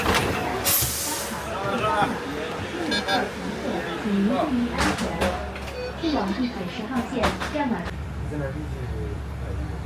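A city bus in Beijing pulls in with short air brake hisses and mechanical clunks amid street noise, while people talk nearby over the traffic.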